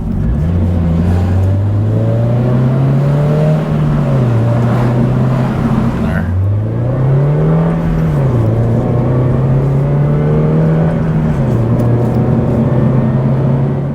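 A Subaru BRZ/GR86 engine revs up past 4,000 rpm repeatedly, loud and close, its tone rising and falling through several pulls with brief dips between them.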